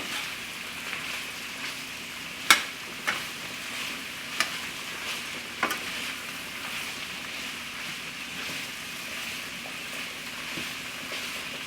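Cabbage being stirred into a pan with sausage: a faint, steady background sizzle with a few sharp spoon scrapes and taps against the pan, quiet and close.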